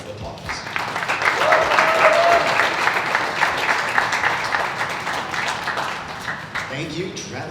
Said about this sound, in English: let's give Joshua Peters a huge round of applause